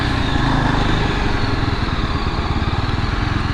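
A 2022 Yezdi motorcycle engine thrums loud and steady from close by, holding an even low rumble through a slow U-turn on the road.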